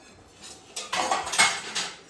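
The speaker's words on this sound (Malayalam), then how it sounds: "പാത്രം എല്ലാം കഴുകി വെക്കണം" Dishes clatter and rinse in a sink, with running water and clinking of plates and pots in short bursts, fairly close.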